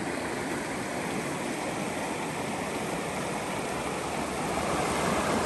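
The East Fork of the Carson River rushes past close by, a dense, steady roar of flowing water beside a road near a deep pool, constant and loud with no voices.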